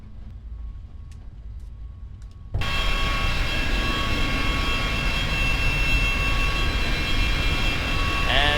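A FlyJSim Boeing 727-100 jet taxis in X-Plane 10: after a quiet stretch with faint clicks, a loud steady engine roar and whine abruptly swells in and holds, close and continuous.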